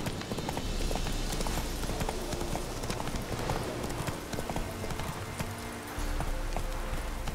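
Roach, the horse in The Witcher 3: Wild Hunt, gallops with steady, rapid clip-clop hoofbeats close up and loud over a constant rainy background wash.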